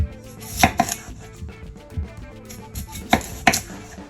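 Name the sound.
knife chopping potatoes into thick chunks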